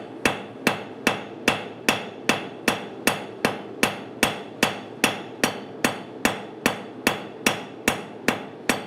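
A cross peen hammer strikes hot metal on an anvil during a forging session, sharp ringing blows landing in a steady, even rhythm of roughly two per second, loud and close, with no voices.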